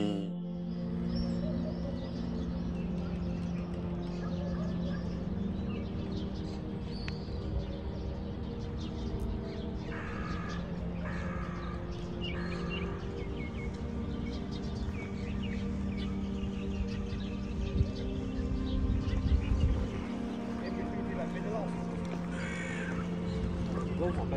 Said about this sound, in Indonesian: kita dengar kicauan burung